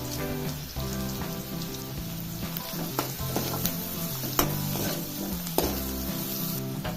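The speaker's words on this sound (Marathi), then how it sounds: "आता कांदा चांगला भाजून घ्यायचा आहे त्यामध्ये हळद घालायचं एक चमचा" Onion with turmeric fries in a pan for a tender jackfruit dry curry, a steady crackling sizzle with periodic stirring scrapes and clicks over a constant background hum.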